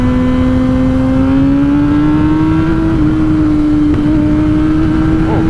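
A 2017 Kawasaki ZX10R sport motorcycle accelerating, its loud, close engine drone holding steady and rising slightly in pitch throughout, with no voices.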